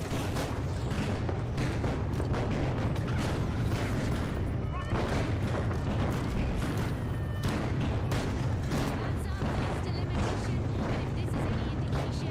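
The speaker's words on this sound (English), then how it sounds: "So many explosions." Repeated explosions rumble and crack in the video game The Finals during a community match, dense and continuous under energetic voices talking throughout.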